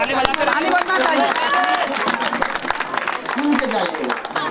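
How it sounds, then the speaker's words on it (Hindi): An audience at an award ceremony claps steadily and loudly throughout, with dense applause mixed with crowd chatter and voices. "ताली बजना चाहिए।"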